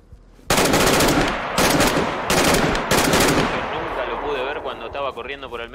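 Automatic gunfire in the video game DayZ during PVP on a new map: four loud bursts of rapid shots, then players talk excitedly over fading echoes.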